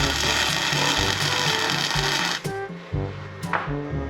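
A cut section of a truck body is tack welded by a beginner, producing a steady, loud crackling electric buzz in short bursts, with a brief stop and restart partway through.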